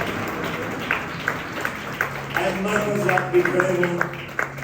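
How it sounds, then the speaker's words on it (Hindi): Applause rises from a congregation at a church marriage seminar, a loose wash of clapping running beneath a voice that speaks over it throughout. "आज जोरदार तालियां बजाएंगे।"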